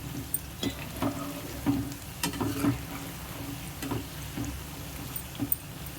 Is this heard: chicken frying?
yes